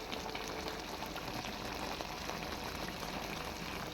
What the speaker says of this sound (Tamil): நல்லா கொதிச்சிடுச்சு.